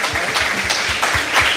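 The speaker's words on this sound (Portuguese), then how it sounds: "Aplauda o seu Senhor nesse momento" A church congregation claps together in a steady, rhythmic beat, the applause filling the space at a fairly loud level with no one speaking.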